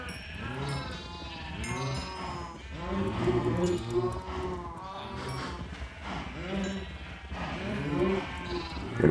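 Sheep bleat repeatedly in a village-building video game, several wavering calls overlapping one another at close range, with livestock sounds filling the whole stretch and no talk over them.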